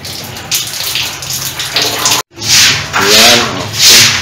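Water rushing steadily out of a newly installed home water filter system, a loud continuous gush with a brief cutoff midway, and voices talking faintly underneath.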